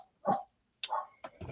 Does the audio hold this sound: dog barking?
yes